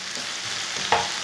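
Sliced okra frying in oil as a spoon stirs it: a steady close sizzle with a soft scrape of the spoon near the end, no voices.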